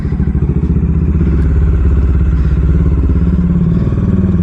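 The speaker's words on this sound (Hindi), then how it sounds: "अपन ने भाई फुल सिस्टम एग्जॉस्ट लगा दिया" Bajaj Dominar 400 motorcycle fitted with an Akrapovic full-system exhaust, idling close up with a loud, steady, deep throbbing burble and rapid low pulses throughout.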